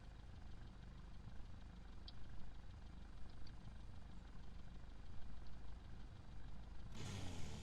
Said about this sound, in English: So we turn on our engine.